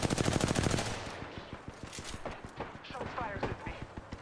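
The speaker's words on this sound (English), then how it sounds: "Shots fired at me." Rapid automatic gunfire rattles close and loud in Apex Legends, a dense burst followed by a steady stream of sharp shots, with voices talking over the shooting.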